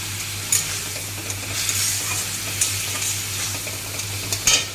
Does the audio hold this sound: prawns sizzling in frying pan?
yes